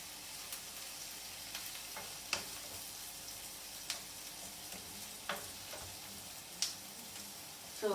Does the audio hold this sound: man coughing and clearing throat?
no